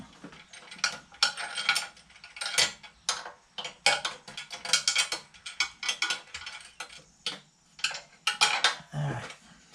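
Bolts being tightened on a Doodlebug mini bike make quick bursts of ratcheting clicks, close and fairly loud, in irregular runs with short pauses between them.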